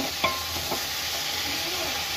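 Okra cooks in a small pot on the stove, giving a constant close sizzle with a few quick scrapes and clinks of stirring near the start; no voices.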